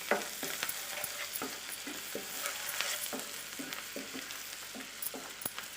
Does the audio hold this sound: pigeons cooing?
no